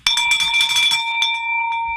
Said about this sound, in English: Bring that bell down.